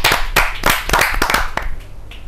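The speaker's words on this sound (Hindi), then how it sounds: "तालियों से।" Audience at a Hindi kavi sammelan poetry gathering clapping to welcome a poet to the stage: loud, close hand claps in uneven bursts that thin out toward the end.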